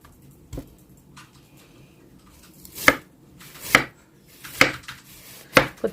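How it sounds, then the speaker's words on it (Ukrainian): A knife chopping cabbage by hand on a board in a hotel room, four or five sharp, separate cuts that grow more regular and louder toward the end, close by with no talking. "Коротше, це не шатківниця, буду різати вручну"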